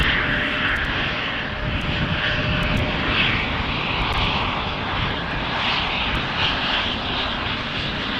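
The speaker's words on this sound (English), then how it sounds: "it seems that this Embraer is going to take off first in front" An Embraer jet at Schiphol Airport powers up for a rolling takeoff, a steady broad engine roar that stays loud and constant throughout, with a faint whine riding on top.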